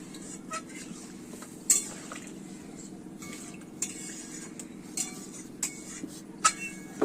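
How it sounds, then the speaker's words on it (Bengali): Water poured into a cooking pot and stirred, with a soft steady liquid wash under intermittent sharp clinks and scrapes of a utensil against the metal pot, spaced irregularly. "এবার আমি জল ঢেলে দিচ্ছি। জল ঢেলে আমি নেড়ে নিয়ে আমি চাপা দিয়ে দেবো।"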